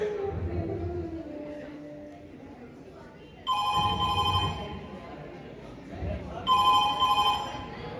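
A telephone rings in two bursts of repeated electronic trilling, separated by a short pause, while a voice is heard in the background.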